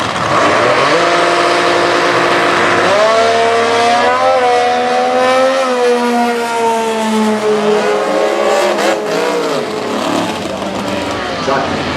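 Competition drag racing cars at the 2015 US Nationals accelerate hard down the strip with a loud, rising engine roar, pitch climbing through gear changes, while a commentator talks over it.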